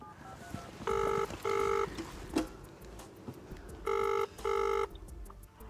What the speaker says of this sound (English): All right, then, Ozzy, make that phone call.